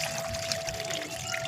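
Water poured steadily into a container while replanting lotus tubers and runners, a continuous close splashing pour filling it to the brim.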